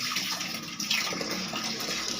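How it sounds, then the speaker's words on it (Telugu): Water runs steadily and splashes softly while hair is being washed, making a continuous, moderately quiet gush with a few brief spattering swells. "ఇప్పుడు నేను హెయిర్ వాష్ చేస్తున్నా"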